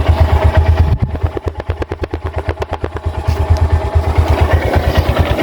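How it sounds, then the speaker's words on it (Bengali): A 2023 Honda CB Hornet 160R motorcycle idles close up, a steady fast-pulsing engine thrum with mechanical clatter heard near the engine. "তো আমি ইঞ্জিনের কাছ থেকে শোনানোর চেষ্টা করতেছি আপনাদেরকে"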